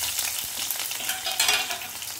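Onions sizzle and crackle in hot oil with popped mustard seeds for a Tamil drumstick-leaf kuzhambu, with a few stirring scrapes in the pan, close and steady.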